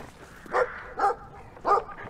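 Dog in the Brothers: A Tale of Two Sons video game barks three times in short, spaced yaps, moderately close, over a low background hum.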